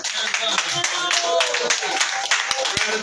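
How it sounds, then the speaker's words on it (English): Audience clapping and cheering for a performer at a kava lounge, a dense sustained round of applause with scattered whoops, filling the room throughout. "let's give another round of applause to Frank Grant"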